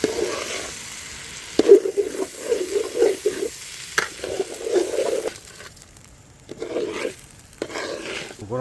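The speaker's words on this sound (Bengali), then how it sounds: "চালটা এখন খুব ভালো করে ভেজে নেব।" Chinigura rice fried with onions in a pan for pulao at an outdoor family village picnic: rhythmic scraping stirs over a soft sizzle, with short pauses between bursts of stirring.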